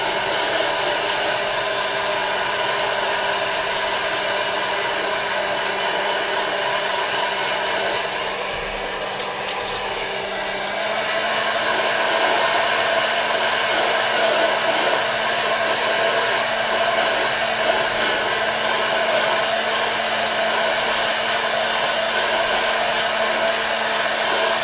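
A handheld hair dryer blows steadily on freshly inked pens and paper, a loud continuous whoosh that dips briefly midway before resuming at full strength, with no talking.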